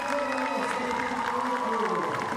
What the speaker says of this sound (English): And hear a cheer